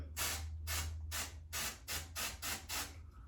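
Seven quick bursts of aerosol spray hiss in a steady rhythm, close and fairly soft, over a faint low hum.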